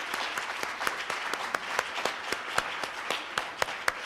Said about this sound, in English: can you please stand so we can give you a round of applause as well?